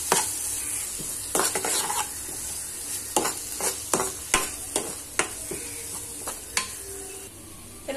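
Chicken tikka curry being stirred in a sizzling pan as tomato sauce and soy sauce go in: irregular spoon scrapes and knocks against the pan over a steady, close frying hiss, with no voices.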